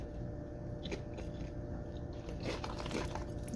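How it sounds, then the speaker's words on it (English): Crisp crunching of homemade potato chips being bitten and chewed up close, a few sharp cracks between softer chewing, quiet overall. "Can you hear the crunch?"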